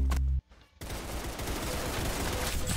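Gunfire in the video game Arsenal: a sharp shot, a brief gap, then a sustained rapid volley of shots rattling on loudly to the end.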